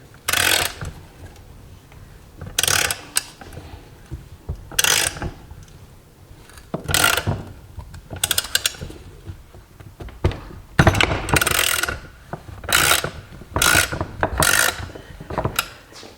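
Repeated metallic ratcheting and creaking bursts as a puller tool is cranked in short strokes to press the crankshaft out of a KX125 engine case, with pauses between, close up and fairly loud.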